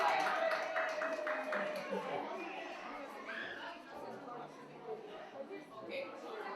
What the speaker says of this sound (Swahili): Pigia makofi Dahiro.